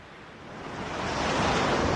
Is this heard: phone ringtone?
no